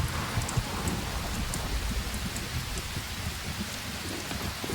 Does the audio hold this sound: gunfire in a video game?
no